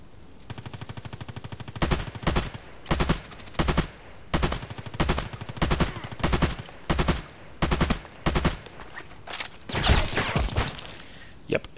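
AK-105 rifle fire in the shooter game Contract Wars, repeated short bursts of automatic shots in a steady rhythm with brief pauses between, loud and close, ending in a longer burst.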